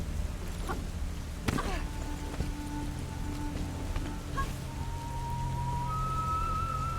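Steady video game rain, from Tomb Raider: Underworld in Southern Mexico ruins, patters across the whole stretch, with occasional sharper drops and a faint tonal hum underneath, fairly close and even in level.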